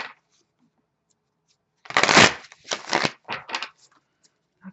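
Tarot cards are shuffled in a few crisp riffling bursts, close and clear, over an otherwise quiet room with short gaps between passes.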